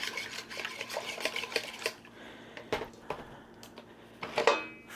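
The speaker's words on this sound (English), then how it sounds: "give that a quick stir" Sourdough discard bagel dough being stirred in a bowl: quiet scraping and knocking of a utensil against the bowl in uneven strokes, with a brief pause in the middle before a louder rattle near the end.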